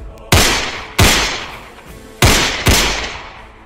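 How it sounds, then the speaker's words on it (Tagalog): Four loud, close gunshots ring out in a dramatized horror story as a man fires at fleeing figures: two quick blasts, a pause, then two more, each followed by a decaying echo. "Nang makita rin ni Lolo Ding na hinahabol yon ni Gaston at pinapaputukan ng baril."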